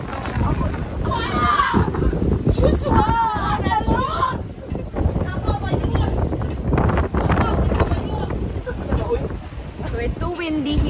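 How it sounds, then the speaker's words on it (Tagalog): Strong seaside wind at Barili, Cebu buffets the microphone in a steady roar, with people talking nearby throughout. "So it's so windy here."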